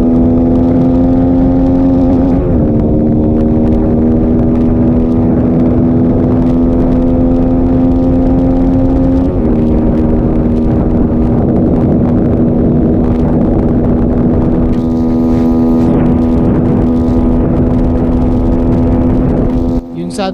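Two stock motorcycles, a SYM VF3i 180cc and a Rusi Flame 150cc, racing side by side: loud, steady engine drone held at high revs with brief shifts in pitch, continuous and close for the whole stretch.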